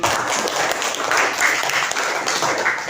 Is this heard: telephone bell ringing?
no